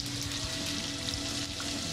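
Bacon sizzles and crackles in a pan inside a VR breakfast-cooking game, a steady close frying hiss with faint popping and a low background hum, no voices.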